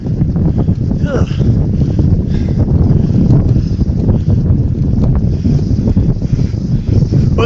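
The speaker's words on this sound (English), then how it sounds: "Wow, this wind got nasty" Strong, nasty wind buffets the microphone outdoors on a downhill walk, a loud continuous roar and rumble that never lets up across the whole stretch.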